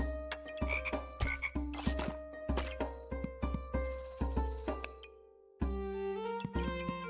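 Toads croaking in the video game Backpack Battles, a run of sharp repeated croaks with chiming game tones layered over them, a brief silent gap, then more croaking, with no speech.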